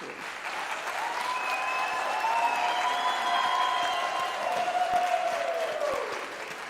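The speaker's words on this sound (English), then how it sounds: "give them a big round of applause as an expression of your gratitude" A graduation ceremony audience gives a big round of applause, a steady, even wash of clapping throughout, with a faint voice or tone gliding through the middle.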